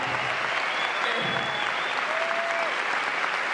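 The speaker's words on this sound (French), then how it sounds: "j'aimerais un tonnerre d'applaudissements pour Mathis" A crowd at a magic show applauds steadily, a dense wash of clapping that holds at an even level throughout.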